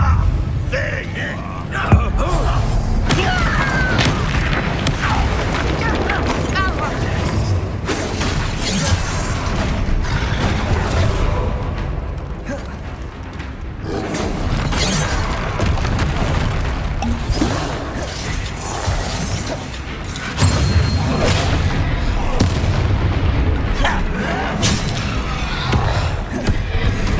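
Loud, busy combat from Hogwarts Legacy, where the Confringo spell produces fiery explosive blasts, whooshes and crashes that repeat throughout. A voice calls out briefly over the bursts.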